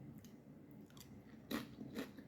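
Crunchy potato-style chips dipped in chocolate being bitten and chewed, with two louder crisp crunches standing out close up after softer, quieter chewing.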